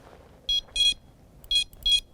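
A Prologic bite alarm receiver sounds four short electronic beeps in two pairs, crisp and high-pitched, close to the microphone against a quiet background.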